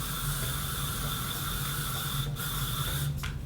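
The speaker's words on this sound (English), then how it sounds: "I'm gonna go ahead and put a generous amount of hairspray." Hairspray hisses from a can onto styled, curled hair in one continuous, fairly close spray with no talking.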